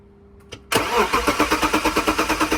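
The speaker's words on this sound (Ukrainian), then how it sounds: "Зараз ще ват покрута двигуном, подивимося, чи є оберти." BMW M50 engine cranking over, a quiet click and then the starter kicking in, turning the engine with a steady rapid rhythmic chugging that continues without catching.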